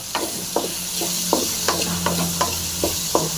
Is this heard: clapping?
no